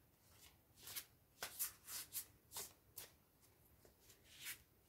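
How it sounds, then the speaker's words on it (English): Tarot cards being shuffled by hand in a quiet room, a run of crisp riffling bursts and soft slaps arriving in an uneven rhythm, close and clear with no talking. "As I was just shuffling there"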